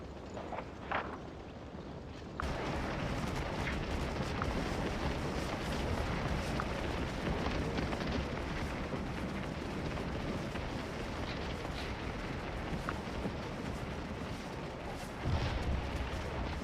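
Cannon artillery fire in the Civil War game Scourge of War, with 6-pounder Model 1841 and 10-pound Parrott guns, booms amid a dense, continuous battle din, with scattered sharper reports over the rumbling background.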